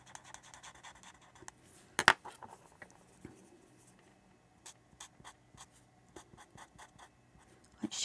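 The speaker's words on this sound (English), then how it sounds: "I'll add the dark to the paper when it's moist with alcohol marker." An alcohol marker scratches and rubs across moist paper in short, repeated close-up strokes, with a sharper tap or two, and no talking.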